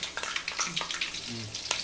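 Green chillies and curry leaves frying in hot oil for a fish curry give a steady, close crackling sizzle with quick popping spits throughout.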